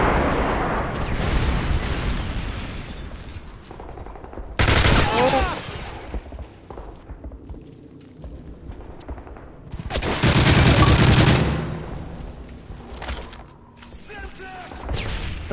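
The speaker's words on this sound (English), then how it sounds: "Friendly airstrike on the way." Airstrike explosions and gunfire in the video game Modern Warfare 3, with heavy booming blasts and rapid fusillades that swell and fade under occasional voice chat.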